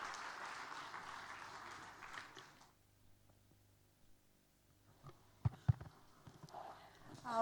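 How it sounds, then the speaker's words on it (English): Audience applause at an international media briefing for a Nepal tourism campaign, a broad wash of clapping that carries on for a few seconds and then stops, followed by a quieter room with scattered knocks and movement. "Let's welcome her with a huge round of applause"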